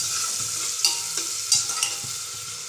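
Garlic, green chilli and onion frying in oil for dal tadka, a close, steady sizzle with a few sharp stirring clinks and scrapes of the spoon against the pan.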